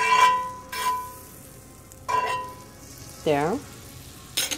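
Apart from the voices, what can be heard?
flan chimichanga frying in butter in a pan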